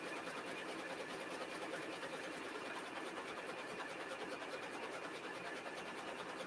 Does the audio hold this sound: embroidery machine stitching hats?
yes